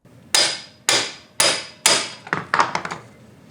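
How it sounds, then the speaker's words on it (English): A hammer strikes a motorcycle impact screwdriver to break a stuck screw free, four sharp metallic blows at an even pace followed by a quicker cluster of lighter taps, loud and close with no speech. "just use the impact screwdriver. You hit it with a hammer, and at the moment of peak inward force, it also turns 1/8 counterclockwise"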